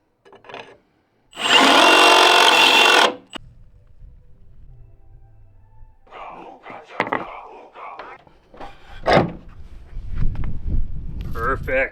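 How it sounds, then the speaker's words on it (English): A power drill bores briefly into concrete, a loud grinding whine lasting about two seconds, widening holes for 3/8-inch anchors; afterward come quieter handling clatter and low speech. "I'm going to have to just slightly open these up with a drill bit"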